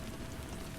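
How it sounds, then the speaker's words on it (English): Rain pattering on window panes, a steady, dense hiss of drops with no pauses throughout. "the soft patter of rain tapped against the window panes"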